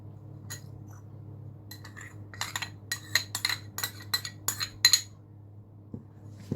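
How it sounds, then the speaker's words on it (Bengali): A spoon clinks against a bowl while sattu breakfast batter is mixed with tamarind pulp, green chilli and chopped coriander, giving a run of quick, light metallic taps over a low steady hum. "ভালো করে এবার আমি মিশিয়ে দিচ্ছি।"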